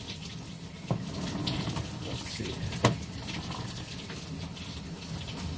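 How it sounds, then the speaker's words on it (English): Water draining through a pipe, a steady rushing gush with a couple of brief knocks, heard up close while someone speaks briefly. "It's draining, it's draining"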